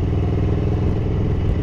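A Ducati 900SS bevel-drive motorcycle engine running during lambda and air-fuel tuning, a loud, steady, close throbbing rumble with constant mechanical clatter and no break.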